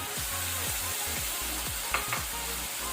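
Clams tossed into a hot fried rice pan set off a steady, close sizzle of frying, with a few light clinks from the cookware over the hiss.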